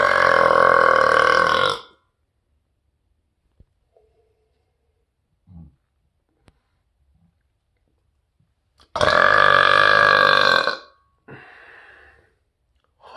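Two long, loud, throaty belches come close up, several seconds apart, with faint breathing and small noises between them and a shorter, weaker gulp after the second.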